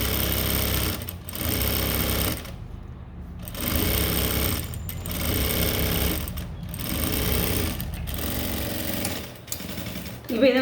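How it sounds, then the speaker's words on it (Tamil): A sewing machine stitches a blouse in long, loud, steady runs of rapid mechanical chatter, with brief pauses between each stretch of stitching. "இப்போ இன்னொரு தையல் போடுறேன், மேலே இருந்து கீழே போடுறேன்"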